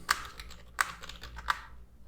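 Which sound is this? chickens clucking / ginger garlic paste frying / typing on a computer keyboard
typing on a computer keyboard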